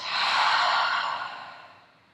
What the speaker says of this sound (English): Take a big inhale through the nose, filling the lungs. Open the mouth, exhale it out.